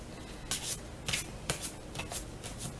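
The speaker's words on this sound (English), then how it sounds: "So when you shuffle like that, you have clumps of cards coming over." Soft, brisk riffling of a deck of tarot cards, several quick shuffles in a row, close and quiet.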